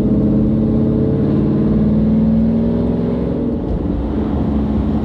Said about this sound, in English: I've got it in manual right now, manual mode. So I can just kind of rev up a little bit and then take it back down.